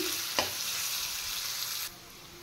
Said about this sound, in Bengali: এবার পেঁয়াজগুলো একটু ফ্রাই করে নেব